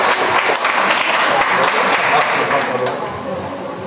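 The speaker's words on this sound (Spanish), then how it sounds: "Un aplauso para él" Loud, continuous audience applause for poet Mohamed Molina at a library reading, many hands clapping steadily throughout and easing slightly toward the end.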